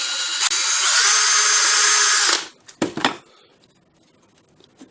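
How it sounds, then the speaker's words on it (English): A power drill bores down through one piece of wood into a second, a loud continuous whine for a little over two seconds that stops abruptly, followed by a few short knocks and clatters in a quiet room. "drill right down through the first into the second piece."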